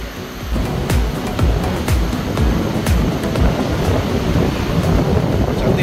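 Surf rolls in at Lagoy beach on Bintan island, a loud, steady rush of breaking waves mixed with gusty wind buffeting the microphone, with no voices.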